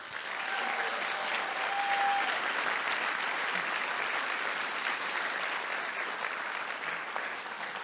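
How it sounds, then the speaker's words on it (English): A crowd at a Hawaii political debate claps steadily and warmly for the candidates, a dense even wash of applause that holds at the same strength throughout without fading. "A round of applause, please, for all our candidates."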